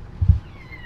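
A kitten gives a single short, fairly soft meow near the start, followed by quiet room background with no talking.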